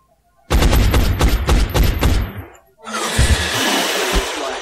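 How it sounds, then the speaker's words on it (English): Gunfire in the video game X-COM Enemy Unknown: a loud burst of rapid automatic shots for about two seconds, then a sustained roaring blast that continues to the end. "take that shot and see what you can get"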